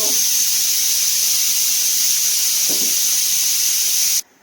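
A pressure cooker whistle releasing steam, a loud, steady high hiss held for about four seconds before cutting off abruptly.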